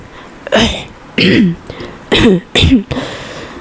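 Several harsh coughing bursts from one person, loud and close, spaced unevenly over a few seconds with brief pauses between them.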